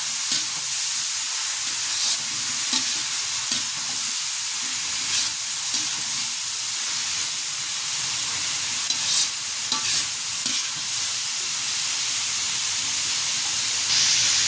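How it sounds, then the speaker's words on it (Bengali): Potatoes sizzle and fry steadily in a pan with spinach, a continuous close hiss broken by soft scraping as they are stirred. "আলুগুলো দিয়ে একটু ভালো করে নেড়ে নেব।"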